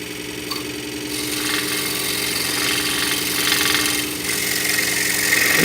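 A scroll saw fitted as a sander runs with a steady, rapid mechanical buzz and vibration, joined by brief rasping bursts as the workpiece is sanded; no talking.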